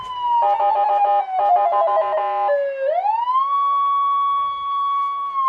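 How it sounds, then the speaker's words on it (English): A siren at a baseball game wails with rapid warbling bursts, then sweeps upward into a long steady high tone, loud and close with no talking. "So the siren hits again."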